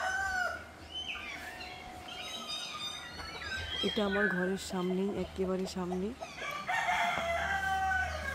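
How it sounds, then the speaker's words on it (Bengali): A rooster crows several times close by in the morning while smaller birds chirp around it outside a home beside a footpath, and a person talks over the calls. "সকাল হলেই পাখির ডাকে চোখ খুলে যায়"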